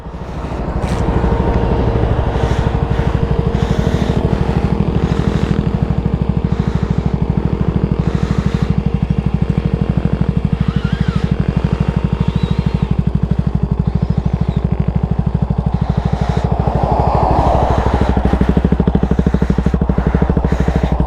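A loud, steady mechanical whir from an idling KTM RC200 sport motorcycle, with its engine cooling fan droning continuously close by for the whole stretch.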